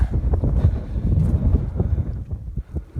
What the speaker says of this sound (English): Hopefully that will shelter us from the wind a bit.